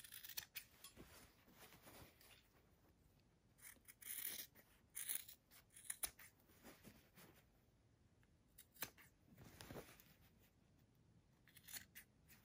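Scissors snip through a cable tie reinforced face mask in quiet, close, irregular cuts and crisp clicks scattered over several seconds, with no one talking.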